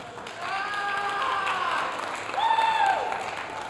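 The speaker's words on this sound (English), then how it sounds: "let's give a round of applause" School audience at a Mr. MHS pageant gives a round of applause, moderate clapping mixed with rising whoops and cheers, heard from within the crowd.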